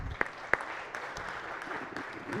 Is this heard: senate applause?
yes